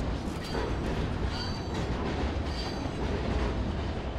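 A train in the Call of Duty Ghosts campaign rumbles steadily with rail clatter and faint wheel squeals, loud and continuous with no voices.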